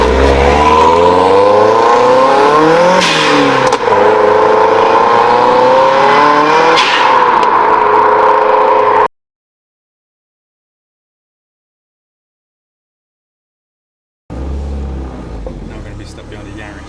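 A turbocharged Mazda MX5 rated at 210 bhp revs hard as it pulls away, its loud engine note climbing and falling through gear changes, then cutting to silence before the engine returns more quietly.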